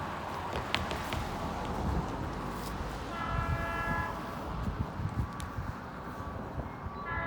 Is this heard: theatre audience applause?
no